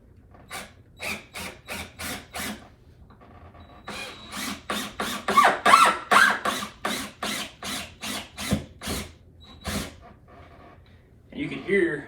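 A screw is driven through squeaky flooring into a floor joist, producing a long run of evenly spaced, close mechanical clicks and pops that grow louder midway. Brief noise follows at the end.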